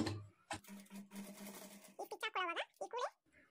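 A sewing machine runs in a short steady burst while stitching a blouse waistband, its close whirring hum followed by a person speaking.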